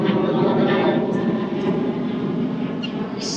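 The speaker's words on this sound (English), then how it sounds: "you can see these planes go over." An airplane passes over near an airport in Spain, heard as a loud, steady jet roar that fills the clip, slowly fading a little toward the end, with no talking.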